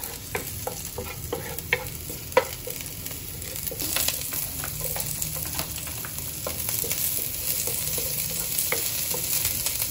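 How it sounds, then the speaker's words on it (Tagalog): Garlic sautéed in a tablespoon of oil for vegetable soup gives a steady close-up sizzle, with scattered taps and scrapes of stirring throughout and no talking. "to start, saute the garlic."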